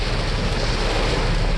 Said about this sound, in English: And it just started pouring.